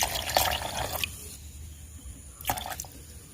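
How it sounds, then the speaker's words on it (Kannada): Tender coconut water is poured into a mixer jar for a milkshake, giving two short close splashing bursts separated by a quiet gap. "ಅರ್ಧ ಗ್ಲಾಸ್ ಸಿಯಾಳದ ನೀರು ಹಾಕ್ತೇನೆ."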